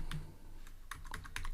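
Java code being typed on a computer keyboard, a quiet run of close, irregular key clicks that grows into a brisk cluster toward the end, with no speech.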